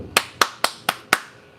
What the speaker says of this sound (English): Huge applause, our Florida Panthers.